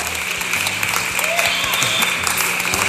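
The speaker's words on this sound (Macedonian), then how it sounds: "Може еден аплауз за нив." Applause from a studio audience greeting guests on a Macedonian A1 television entertainment show, steady clapping filling the whole stretch at moderate loudness, with low voices faintly underneath.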